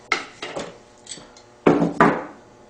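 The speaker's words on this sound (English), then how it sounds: "Get a hold of that with a good pair of pliers. And this stuff's tough. I'll give it a good pinch and then just snap it off." Pliers pinching and snapping off a piece of tough wire while building a sparrow trap, giving a few sharp clicks and snaps, with two louder close cracks near the end and no talking.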